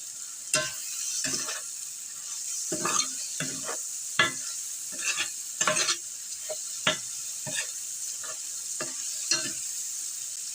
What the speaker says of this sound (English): I'll brush that on the burgers as we do flips on the grill